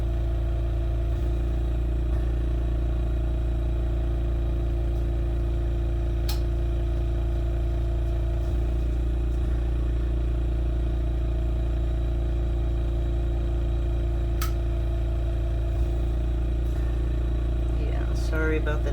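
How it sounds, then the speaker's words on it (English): An oxygen concentrator runs during lampwork bead making, a loud, steady low hum and drone with a faint mechanical clatter that persists unchanged throughout. "Sorry about the noise from the concentrator."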